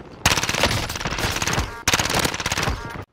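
A new SMG fires in the Warzone video game in two long, rapid automatic bursts split by a brief pause, loud and close, with no talk over it.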